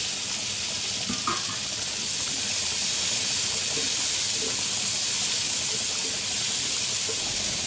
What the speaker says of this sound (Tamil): நறுக்கி வச்சுருக்க தக்காளியை போட்டு லேசாக வதக்கி விடணுங்க